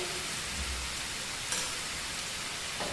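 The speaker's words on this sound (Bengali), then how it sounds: "এটা আমি লো ফ্লেমে এইভাবে আস্তে আস্তে ঢাকা দিয়ে রান্না করে নেব।" Chicken cooks covered in a kadai over a low flame with no added water, producing a steady, soft, hissing simmer that runs evenly throughout.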